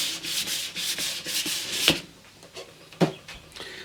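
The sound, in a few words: sanding a wooden radiogram cabinet with fine sandpaper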